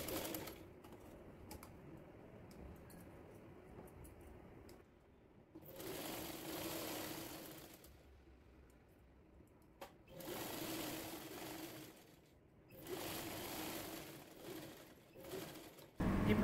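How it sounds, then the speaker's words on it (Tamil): Sewing machine stitching the side seams of a long umbrella-style dress, running in three steady bursts of rapid whirring stitches separated by quieter pauses, close and clear. "இந்த மாதிரி ரெண்டு சைடும் தச்சு எடுத்துக்கோங்க."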